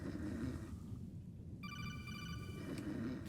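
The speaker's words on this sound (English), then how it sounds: "Okay, we're getting a phone call." Phone ringing in the Metal Gear Solid video game, a short electronic ringtone with a repeating high tone over low rumbling game ambience, fairly quiet.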